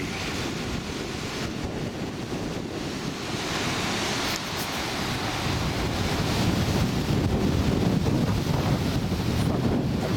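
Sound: strong wind gusting

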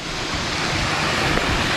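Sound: small waterfall from river water released below a small dam

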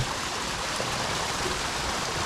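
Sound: water flowing down a stream

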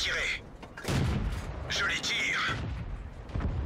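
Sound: tank gunfire in the video game World of Tanks

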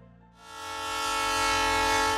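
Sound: train at a railway station, sound effect

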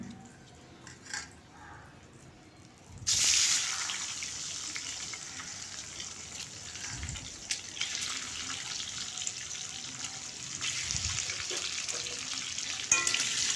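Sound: egg whites deep-frying in oil

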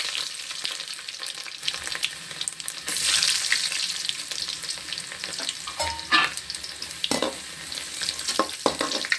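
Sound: cumin and garlic frying in a pan for paneer masala

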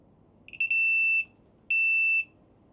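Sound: new smoke detector beeping when turned on

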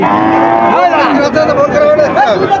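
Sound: cattle mooing at a cattle market

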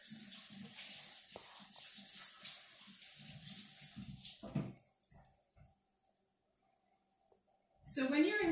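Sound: washing hands under a running tap

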